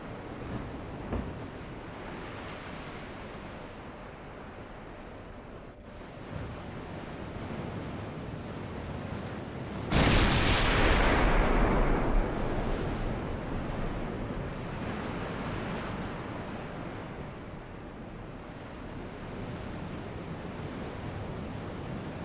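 Battleship Bismarck's heavy guns firing in the naval game Ultimate Admiral: Dreadnoughts, with a big booming salvo roughly midway that rolls off slowly over a constant ocean-like rumble of wind and waves.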